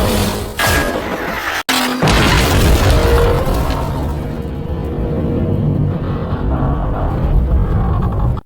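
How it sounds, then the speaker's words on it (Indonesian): A bazooka shot hits a car: a loud, sustained explosive boom with crashing debris and a heavy rumble that lingers, followed by a sharp second impact. "Ia menembak mobil itu dengan bazooka."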